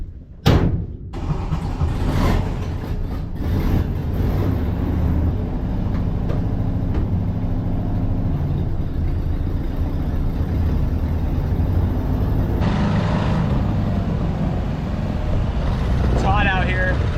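Air-cooled VW Bus engine running steadily while driving, fitted with a newly installed oil cooler; a continuous low drone holds throughout, with wind and road noise and a brief rise near the end.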